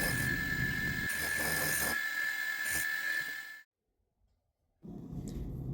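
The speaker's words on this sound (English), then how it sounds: "Then we go in with a 1/8 inch bit to open up the final diameter." A small deep hole being drilled with a 1/8 inch bit on a machine tool for a model steam engine frame, giving a steady high whine with pecking changes, stopping abruptly into silence before resuming.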